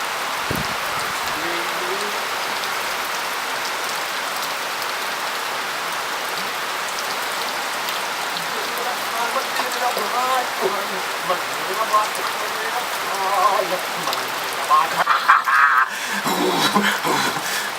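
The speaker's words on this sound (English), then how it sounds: "And it's raining." Steady rain pours down across the whole recording, a dense hiss of drops with louder splashing patches near the end.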